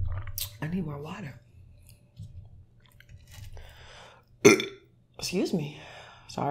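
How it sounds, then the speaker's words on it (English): Several burps break through quiet chewing and mouth noises, one loud and abrupt, others throatier, with a voice murmuring between them. "Sorry, you getting lots of burps today."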